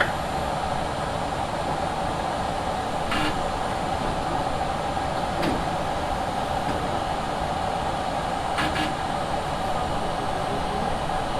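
Continuous loud rumbling roar of a New York City A train at a subway platform, with a few brief metallic clanks and squeals cutting through the steady noise.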